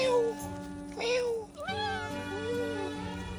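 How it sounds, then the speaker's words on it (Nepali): A kitten meows several times in a short, close sequence, with drawn-out rising and falling cries. The calls are clear and fairly loud, with soft outdoor background noise. "बिरालोको बच्चा हेर्न यस्तो राम्रो हिँडेको छ"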